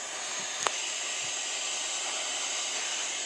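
A heat gun blows steadily on a golf club head during removal, a continuous broadband airy hiss close by, with a brief sharp click near the start and no talking.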